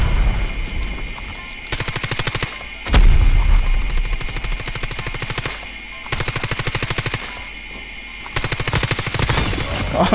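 Rapid automatic gunfire in the mobile shooter Call of Duty Mobile, loud and close, coming in several long sustained bursts separated by short pauses, with one heavier blast partway through.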